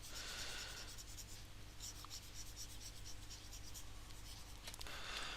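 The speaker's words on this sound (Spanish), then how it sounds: "Y acá vamos a dibujarla." A pencil scratches steadily across paper while an illustration is sketched, a soft, continuous close-up rubbing with faint strokes over a low background hum and no talk.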